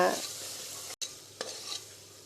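Yogurt being stirred into mushroom biryani masala in a pan, a short scraping stir over faint sizzling, with a brief gap and a couple of sharper scrapes later.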